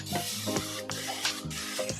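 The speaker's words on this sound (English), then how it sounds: "It's Perfect Release baking spray." Perfect Release baking spray hisses from a can in a home kitchen, with a few short close bursts of spray.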